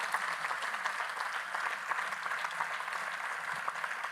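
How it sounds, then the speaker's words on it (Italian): An audience at a live theatre show in Tortolì applauds the performers, a steady, fairly distant wash of clapping with no voices on top. "vi chiedo di fargli un applauso perché sono davvero bravi"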